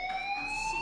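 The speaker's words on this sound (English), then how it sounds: "Hey, do you hear that fire alarm?" Fire alarm ringing in the video game Life is Strange Remastered, a steady, piercing electronic tone heard alone and fairly loud.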